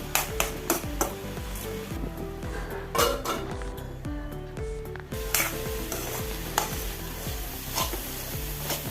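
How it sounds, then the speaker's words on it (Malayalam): A spoon stirs pumpkin leaf thoran with turmeric in a pan, repeated scraping and clinking strokes over a steady sizzle, close and clear with no talking. "സ്പൂൺ കൊണ്ടൊന്ന് ഇളക്കി നമുക്ക് അടച്ചു വെക്കാം"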